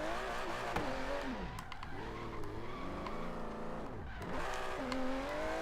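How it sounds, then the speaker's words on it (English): Aston Martin Vantage GT12 in Forza Horizon 3 drifting, its engine droning and rising and falling in pitch with long tire squeals, a steady loud mechanical roar throughout. "Don't like this car's engine at all. It drifts so weird."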